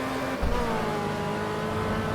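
Race car engine in the Automobilista racing game, a steady droning rev with a rising pitch as it accelerates out of a corner, loud and continuous with no talk over it.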